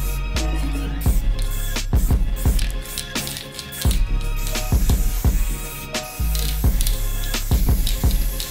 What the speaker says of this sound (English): pink Montana 94, make sure it's spraying well, looking good.